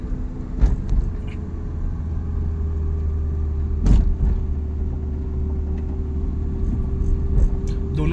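Car driving along a road, a steady low engine rumble with road noise and a few brief knocks, heard from inside the cabin with no talk.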